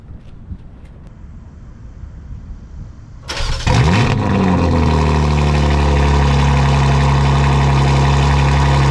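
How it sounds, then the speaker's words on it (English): A Pontiac G8 fitted with catless downpipes cranks and fires up after a quiet stretch, then settles into a loud, deep, steady idle that fills the rest of the clip, heard close with no talking. "let me give you guys a quick startup"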